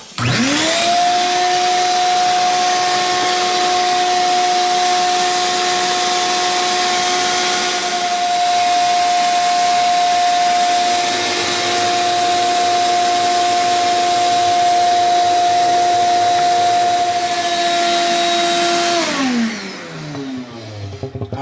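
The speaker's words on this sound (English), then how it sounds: "Put the shop vac hose over it" A shop vac whines up to speed and runs loudly and steadily for about twenty seconds, then winds down as it switches off, used on a thawed apartment drain.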